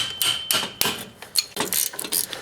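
Sharp metallic strikes ring out in an irregular series of about eight blows as a hammer knocks on a wrench to break loose a brake bolt on a 1995 Toyota Tercel.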